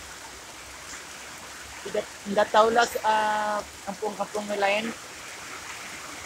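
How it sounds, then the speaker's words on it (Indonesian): Steady rain falls in a village in Kampung Batang Mitus, Tutong, a constant wash of noise in the evening, with someone speaking over it in the middle. "kamu lihat sana hujan, nah itu hujan, hujan sini"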